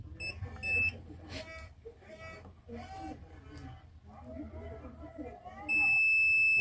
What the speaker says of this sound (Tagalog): Set natin sa buzzer.